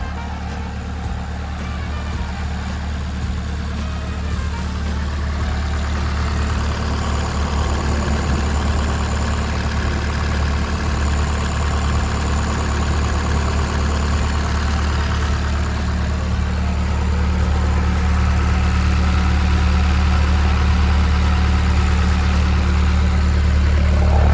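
A Caterpillar 903C2 wheel loader with a C2.4 four-cylinder engine idles close by, a loud, steady, even rumble that holds for the whole stretch with no talk.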